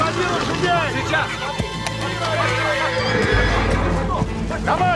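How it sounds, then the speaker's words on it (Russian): Several horses whinny and neigh loudly amid a hectic scene, with hoof clatter and shouting voices and commotion around them. "Скорей, выводи лошадей!"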